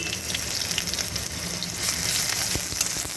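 Chopped medium onion hitting hot oil tempered with black cumin, a steady loud sizzle and crackle with occasional sharper pops, no voices.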